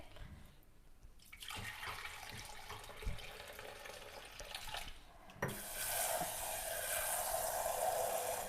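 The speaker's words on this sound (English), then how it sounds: "I'm just washing my rice until the water runs clear" Rice being rinsed under a running kitchen tap in a sink, a steady close rush of water that swells louder and brighter partway through as the flow increases, with no talking.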